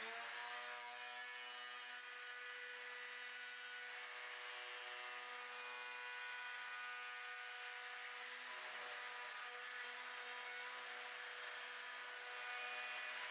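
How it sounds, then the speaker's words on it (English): A hand router on a router sled flattening a resin tabletop, a steady, continuous power-tool whine with a broad, gritty cutting hiss, holding at an even level throughout with no voices. "I adjusted the hand router to the right height and then went back and forth on the router sled"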